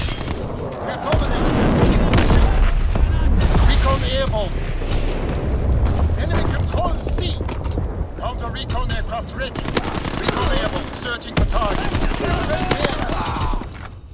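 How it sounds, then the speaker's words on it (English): Video game combat with a V2 rocket launch: a loud, sustained roar and explosive bursts mixed with rapid gunfire and automated radio-style voice callouts running throughout. "Launching V2 rocket."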